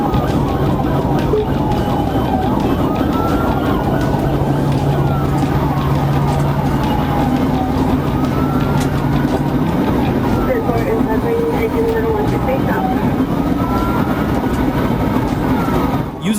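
Police patrol car siren from a trooper's vehicle chasing a stolen white Kia Seltos on Interstate 75, wailing in steady rising and falling sweeps over continuous road and engine rumble for the whole stretch.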